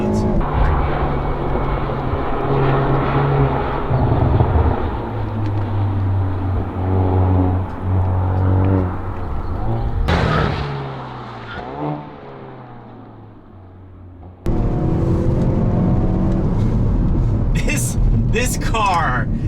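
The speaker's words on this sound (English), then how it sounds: "I'm back here ripping exhaust notes." A 2021 Hyundai Veloster N with dual-clutch transmission driven hard, its engine and exhaust droning and rising through the revs, with a sharp shift break near the middle and renewed loud acceleration toward the end, under people talking.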